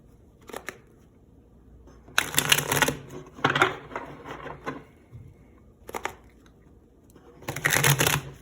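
Tarot cards being shuffled in several brisk riffling bursts, separated by short quiet pauses, close and crisp with no talking.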